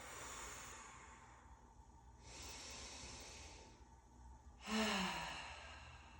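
During a hot yoga class, several long, hissing breaths follow one another closely, an inhale and then a fuller, sighing exhale that ends with a slight voiced tone. The breaths are near and soft, with no talking.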